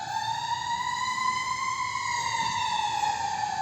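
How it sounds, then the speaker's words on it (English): An ambulance siren wailing in a steady sweeping tone, moderately loud as it goes by outside. "there goes the ambulance."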